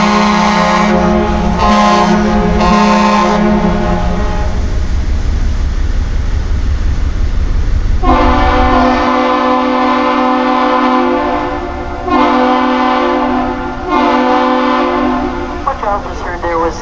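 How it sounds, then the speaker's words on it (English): Loud, long horn blasts from the tug Missouri and the Duluth harbor bridge as they exchange a captain's salute. Deep overlapping tones are followed by a pattern of one long and two short blasts, with a faint voice underneath. "tugboat initiates the greeting with one long blast followed by two short blasts, and the bridge responds to the same thing"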